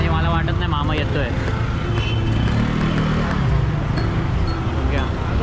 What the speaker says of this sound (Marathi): संजयने गाडी स्टार्ट केली